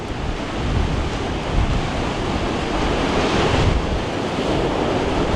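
Continuous heavy roar of surf and onshore wind at Xghajra, Malta, waves washing in close by with gusts battering the microphone, no voices.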